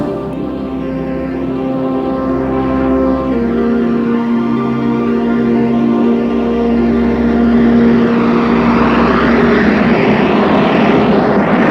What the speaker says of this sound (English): the 16-wheeled, 317-ton largest passenger aircraft in the world took to the air